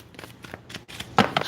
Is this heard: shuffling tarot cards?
yes